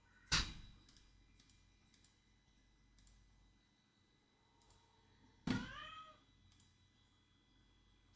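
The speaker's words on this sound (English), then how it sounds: "you can hear my cat whinging" A pet cat meows a few times indoors, two clear calls several seconds apart over quiet background ticking, like a clock.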